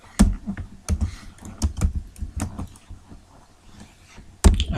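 Code is typed on a computer keyboard in a quick, uneven run of close clicking keystrokes, some louder taps standing out, with no voice.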